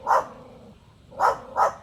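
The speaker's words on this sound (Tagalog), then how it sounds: "Huwag kang kumalapit na sa aso, ha. Kaya kikagatin." Three sharp dog barks, a pair of loud yelps near the start and two more close together at the end, with a quieter gap between them, heard outdoors on a rural trip to gather leaves.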